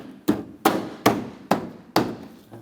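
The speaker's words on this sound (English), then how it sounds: "On the sides, you want to push it into the clips." The plastic bumper cover of a 2011-2015 Chevrolet Cruze is pressed into its side clips, five sharp, evenly spaced thumps about half a second apart, close and fairly loud, each fading quickly.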